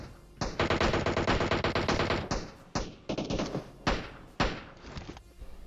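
Automatic gunfire in the mobile battle game PUBG Mobile: loud rapid bursts, several in a row with short gaps, each burst cutting off sharply, with no talking over them.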